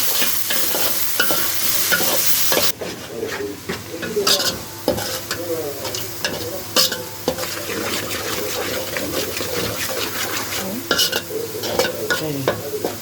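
Onion fries in a pan for a pea dish, a steady sizzle under repeated scraping stirs and clacks of the spoon, fairly close and without talk.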